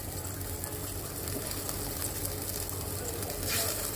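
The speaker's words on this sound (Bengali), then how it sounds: "ঝোলটা দেখো ফুটে গেছে। ঠিক এই সময় আমি দিয়ে দেব ভেজে রাখা মাছগুলি।" Fried fish drops into boiling curry with potatoes, a steady bubbling, sizzling wash of sound throughout that swells briefly near the end, close and even, with no voices.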